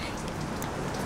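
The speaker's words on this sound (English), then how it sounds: "You guys are kind of lucky to have this kind of weather here, raining." Rain falls as a steady, dense patter with a constant hiss throughout the short stretch, with no voices over it.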